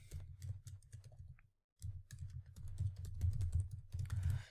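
Rapid keystrokes clatter on a computer keyboard in close, quiet bursts, with one short pause before the typing resumes more densely.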